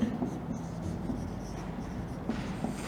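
Chalk or marker writing on a classroom board during a sixth-grade English grammar lesson, a steady scratchy scraping that runs continuously at close range with no one talking over it.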